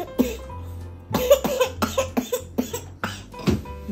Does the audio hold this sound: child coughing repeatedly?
yes